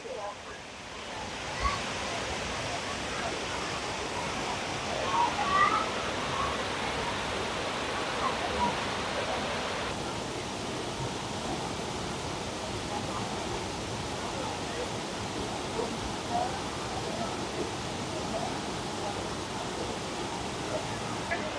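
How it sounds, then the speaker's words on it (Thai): Replica waterfall at a Thai temple rushes steadily, a dense, continuous wash of falling water heard up close throughout, with no breaks. "ข้างหลังผมก็จะเป็นน้ำตกครับเป็น ภาพจำลองน้ำตก"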